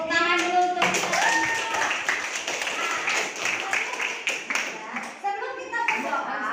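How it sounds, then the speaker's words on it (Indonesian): A primary school class claps hands in a classroom, with scattered quick claps and taps mixed with children's voices and a teacher speaking over much of the noise, all fairly close. "Ibu tepuk tangan dulu untuk kita."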